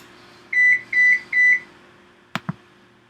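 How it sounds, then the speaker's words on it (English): An oven timer signals that it is ready with three steady, evenly spaced electronic beeps, followed by two short clicks or knocks nearby, in an otherwise quiet kitchen. "That was my oven telling me it's ready."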